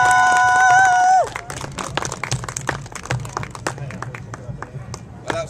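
An audience at a Robin Hood themed magic show bursts into applause as a tone-like sound cuts off, clapping at full strength and then loosening into scattered claps.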